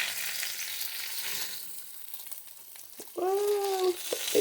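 Bacon and eggs in a busy frying pan, giving a steady close sizzle throughout, with a short squeaky scrape of a utensil near the end.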